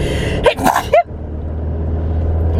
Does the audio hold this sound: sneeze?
yes